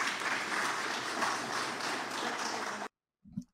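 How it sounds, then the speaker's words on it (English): A crowd at a congressional open session applauds in a steady, dense wash for nearly three seconds, then the clapping stops abruptly and a short sound follows. "And the crowd goes wild."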